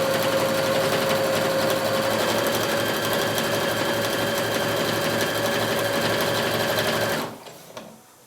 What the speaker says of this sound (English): I'm going to pull over my sewing machine with some black thread loaded on it, and I'm going to sew the short edge first